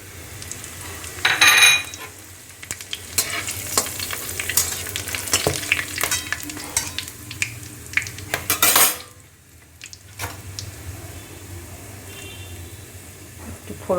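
Bay leaf, dried red chillies, whole cumin, black pepper and garam masala sizzle in hot oil for a mutton curry. Bursts of crackling mix with the scrape and clink of a stirring spoon against the pan.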